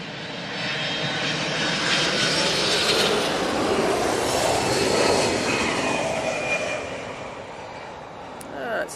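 A Boeing 767 in Star Alliance livery from Newark roars in to land at London Heathrow, a loud steady jet engine rumble that swells and then fades as it passes.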